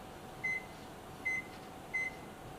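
Oven timer beeping in a kitchen where banana bread is baking, three short evenly spaced electronic beeps over a quiet, faint background hum.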